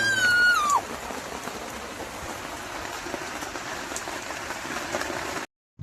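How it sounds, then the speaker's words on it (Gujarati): Rain falls steadily outdoors as a dense, even hiss that runs for about five seconds before cutting out abruptly, with a brief high whistle-like tone at the very start and no talking. "કાલે પણ વરસાદ પડ્યો તો ધમધમાઈને આજે પણ ચડાઈને આવ્યું છે"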